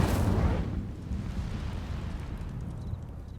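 The Incendio fire spell in Hogwarts Legacy goes off as a loud, sudden fiery blast that fades into a low, rumbling decay.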